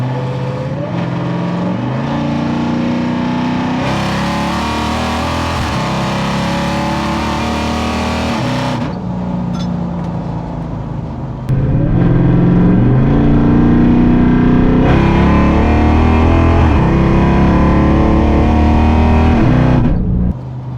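A 1000-plus horsepower Dodge Hellcat accelerates hard in fourth gear, its engine roaring loud and continuous from close range with a steady rising pull and no breaks, heard alone without talk.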